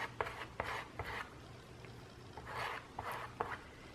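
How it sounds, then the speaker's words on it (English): A small squeegee rubs chalk paste across a stencil transfer, making soft, faint scraping strokes. The strokes are scratchy, repeated and uneven, with no one talking. "I'm gonna keep rubbing it on until I fill in all my holes"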